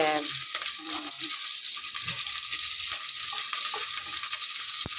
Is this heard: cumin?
yes